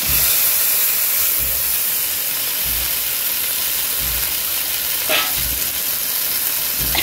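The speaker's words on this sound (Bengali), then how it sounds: "মাছ ভাজাটা দিয়ে দেবো," Fried fish simmering in a spiced curry of cumin, turmeric and chilli powder gives a steady, loud sizzling hiss close by throughout, with faint stirring and no talk.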